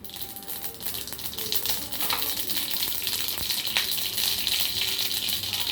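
Steady crackling sizzle of mustard seeds popping in hot coconut oil, close up and continuous, with occasional sharper pops.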